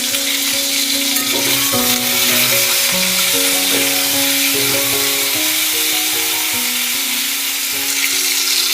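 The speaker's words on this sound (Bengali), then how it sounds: "ঝিঙেটা ভেজে নিচ্ছি" Ridge gourd sizzles in hot oil in a pan, with a constant bright crackle. Stirring scrapes sound over it, and a steady melodic tune plays underneath throughout.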